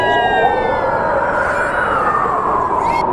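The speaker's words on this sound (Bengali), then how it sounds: "শেয়ালের ডাক শুনতে পাওয়া যায়।" A cartoon jackal lets out a long, wavering howl that holds steady for several seconds over a constant rush of strong wind.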